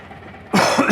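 A single sudden cough, loud and close, breaking out after a quiet half second.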